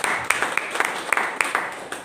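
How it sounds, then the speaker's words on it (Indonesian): An audience at a church service claps in scattered, uneven bursts, with a dozen or so sharp slaps standing out over a faint murmur of people. "Yang setuju berikan tepuk tangan buat Tuhan."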